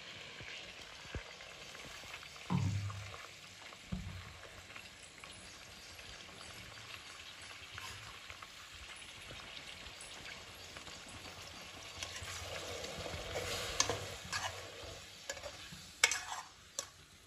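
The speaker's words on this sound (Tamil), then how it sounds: "இப்போ இது எல்லாத்தையும் போட்டு வதக்கிக்கலாம்." Tomato, green chilli, coriander and mint sauté in a pan for mutton salna, giving a soft steady sizzle with occasional stirring scrapes and clinks, rising near the end, with no talk.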